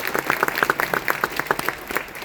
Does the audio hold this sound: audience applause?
yes